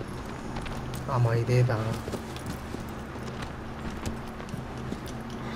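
Horse hooves in Shadow of the Colossus Remastered on PS4, a steady clip-clop of walking or trotting throughout, with someone speaking briefly over it near the start.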